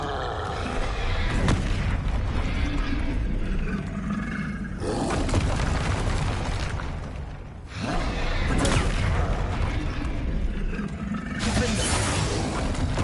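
Bombarda and Confringo explosion spells going off in Hogwarts Legacy: loud, dense booming blasts roaring almost nonstop, with a brief lull in the middle before the barrage picks back up.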